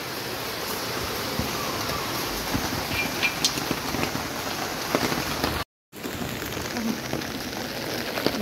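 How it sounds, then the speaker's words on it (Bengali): Heavy rain pours down in a loud, steady roar of dense drops hitting surfaces close by, with a brief cut in the middle and no talking. "প্রচুর বৃষ্টি, দেখো অনেক শব্দ হচ্ছে বৃষ্টিতে।"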